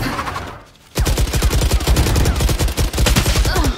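Spectre gun firing in a video game during a live stream: a sudden sustained burst of rapid automatic shots, loud and close, running continuously after a brief quiet start.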